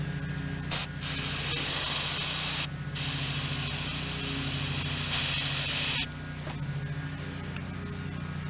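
Aerosol cleaner sprayed into the front steering spindle of a 1986 John Deere 185, a steady close hiss running in several bursts with short pauses between them.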